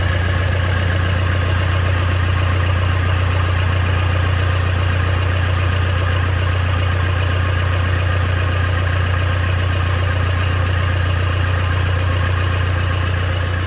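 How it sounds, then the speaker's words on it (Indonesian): Toyota Innova diesel engine idling, a steady loud low rumble with an even mechanical clatter that holds unchanged the whole time, with no talking. "Untuk mesinnya sudah hidup ya kondisinya."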